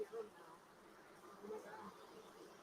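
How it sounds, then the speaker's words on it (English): Honey bees buzz around an open hive on a cloudy day as they grow agitated, making a faint, steady droning hum that stays at an even level throughout. "all the bees are getting mad"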